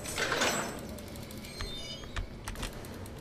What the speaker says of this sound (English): Closing door.